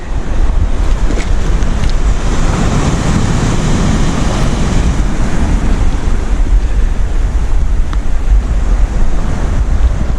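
Sea waves wash steadily onto Sandsend beach as the tide goes out, a continuous loud roar of surf heavily mixed with wind buffeting the microphone.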